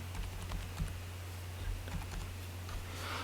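Light, quick keystrokes on a computer keyboard while an Aadhaar OTP is entered, soft clicks scattered irregularly over a low electrical hum, with no talk.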